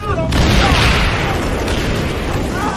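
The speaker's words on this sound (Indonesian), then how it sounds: "Tiba-tiba terdengar suara granat yang dijatuhkan." A grenade blast in a film scene, set in a dense forest, bursts out as one loud, dense rumbling boom that sustains for several seconds with crackling debris-like texture throughout.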